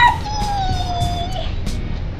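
A pet dog howls in one long, loud, wavering note that slowly falls, followed by a few brief higher yips, close and with no speech.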